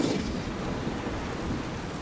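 A thunderstorm at sea in the pirate ship game Blackwake rumbles as a steady, dense wash of rain and low thunder, loud and unbroken throughout with no voices.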